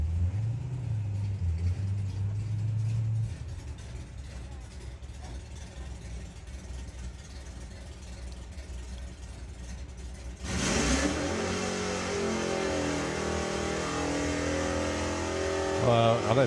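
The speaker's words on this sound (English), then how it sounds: "Just doing the burnout underneath the tower in the Auto Glim lane." A drag racing car does a burnout beneath the tower at Santa Pod Raceway, its engine roaring and revving loudly with a surge near the end, heard from close by at a crowded strip.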